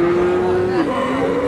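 A single long, loud cow moo at a village cattle market selling breeds like Shahiwal and Friesian cross bulls, its steady tone dropping slightly near the end, close by with general crowd murmur beneath.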